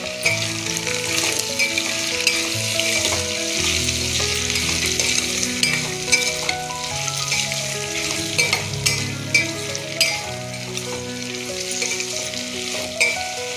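Mixed vegetables with turmeric and salt frying for sambar: a continuous close sizzle with frequent scraping stir strokes and clicks against the pan, over a faint steady tonal background.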